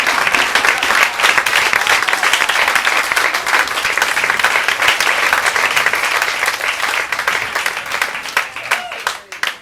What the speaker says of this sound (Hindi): आप पुनः तालियां बजा दीजिए।